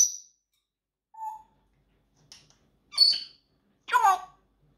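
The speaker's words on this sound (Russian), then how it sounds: "птичка." A small bird gives a few separate short chirps and whistles, sharp and close, with silence between the calls and no talk.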